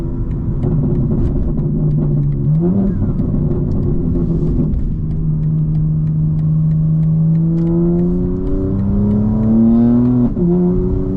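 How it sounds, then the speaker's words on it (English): A 2025 BMW M4 engine drones steadily from inside the cabin while driving, its tone rising and falling through gear changes with a smooth, loud rumble that never stops. "Oh, the car sounds so good, I don't even need to put the windows down"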